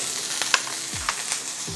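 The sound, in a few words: onion and garlic frying and splattering in a hot pan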